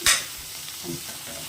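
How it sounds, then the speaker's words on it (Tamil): Peanuts and tomato frying in a pan for a peanut tomato chutney, with a short scraping stir at the start followed by a soft, steady sizzle close by and no talking. "இது நல்லா ஃப்ரை ஆகும்."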